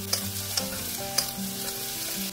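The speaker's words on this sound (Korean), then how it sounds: "웍에 식용유 1큰술 두르고 양파, 고추, 대파 넣어 1분간 볶아줍니다." Onion, chili and green onion stir-frying in a little oil in a wok, an even sizzle with three sharp spatula clinks against the metal over a low humming background; no speech.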